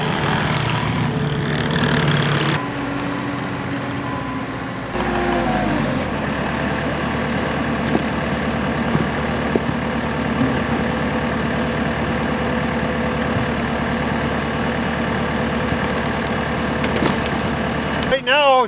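A skid loader engine rumbles steadily at idle while dirt is loaded in a graveyard, a loud continuous mechanical drone that shifts in tone early on and then holds. A person speaks over it.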